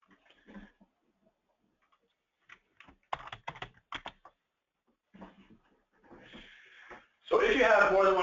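Typing on a computer keyboard to log in to an online account, short bursts of key clicks between pauses, with someone talking briefly before and a louder burst of sound near the end.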